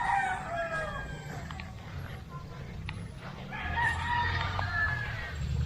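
A rooster crows among a farm's breeder roosters outdoors, with two loud drawn-out calls at the start and end, other fowl clucking faintly between them, and people talking nearby.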